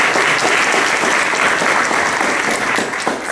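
An audience applauds three guest panelists at a plenary session on transparency and democracy, steady, loud, dense clapping that fills the whole stretch.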